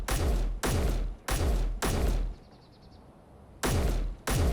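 Loud gunfire from a weapon in the Space Engineers video game: a series of heavy, booming shots in a steady rhythm, about six blasts with a short quiet gap in the middle.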